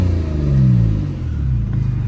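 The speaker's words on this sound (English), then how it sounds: "I'm gonna rev the engine so you can hear it." A Porsche 911 engine revs in a low, rumbling swell that rises, eases off and builds again, heard close and alone with no talking.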